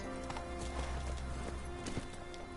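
Geralt's horse Roach gallops in The Witcher 3, a steady, close clip-clop of hooves with a brief whinny, continuous and alone.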